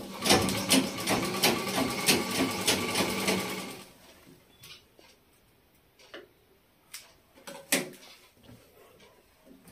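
A sewing machine stitches a women's dress during tailoring, a rapid ticking run for about four seconds, followed by scattered quieter clicks and handling knocks.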